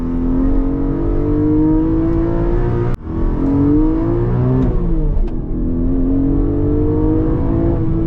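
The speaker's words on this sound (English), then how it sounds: "Man, that induction noise right behind your head." A 2024 Porsche Cayman GTS 4.0 with manual gearbox gives a loud, steady engine roar that climbs in pitch as it accelerates, interrupted by quick gear shifts, with a strong intake growl behind the driver's head throughout.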